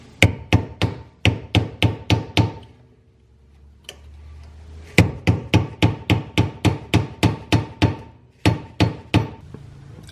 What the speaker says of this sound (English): You're gonna wanna just stick a screwdriver or something and bend them back.